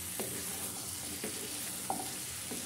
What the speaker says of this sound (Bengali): এখন কেটে রাখা মিষ্টি কুমড়োগুলো দিয়ে দিব এক এক করে। দেখুন, তারপরে আবার একটু নাড়াচাড়া করে নিব।